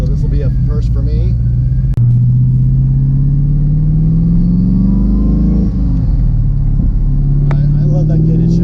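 A De Tomaso Pantera sports car with a gated shifter rumbles from inside the cabin during a ride, its deep, loud engine drone rising and falling steadily, with a brief click near the start.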